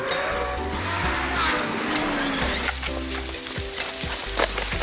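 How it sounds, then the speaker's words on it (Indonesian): A car is driven recklessly in a football film scene, its engine roaring loudly and continuously up close, with rumbling low surges and a busy wash of noise over the whole stretch. "Enrique mengendarai mobil dengan ugal-ugalan"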